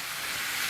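Bacon and pork belly sizzle steadily in a pan for fried rice, a dense, close hiss that stays even and loud throughout the short moment.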